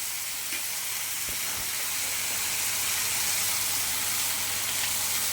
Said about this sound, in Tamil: எல்லாத்தையும் போட்டு நல்லா குழைவாக வதங்கிட்டோம்.